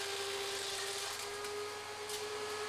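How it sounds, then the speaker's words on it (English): A woodworking thickness planer runs steadily as a board feeds through and gets chewed up, a loud continuous motor whine with a sustained tonal hum and broadband roar, close by and alone. "You could hear the sound on the planer made a completely different sound, and we look at the board, well, it ate my board."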